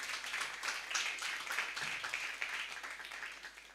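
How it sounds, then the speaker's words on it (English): An audience at an HR conference claps in applause, a steady, faint patter of many hands continuing throughout without a break. "A round of applause for that."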